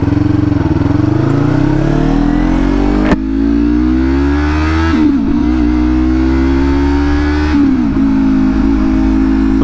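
A motorcycle engine revs loud and close, its pitch rising and falling through several gear changes with sharp breaks as it downshifts, alone without talk.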